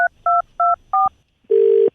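A telephone keypad dials a call with four short, evenly spaced tone beeps and then a longer steady tone, loud, clean and close with no talk.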